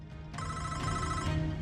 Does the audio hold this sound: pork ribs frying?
no